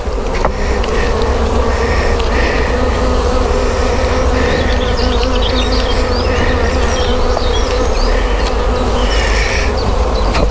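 Honey bees hum loudly and continuously around open hive frames during re-queening, a dense close-up drone with no speech.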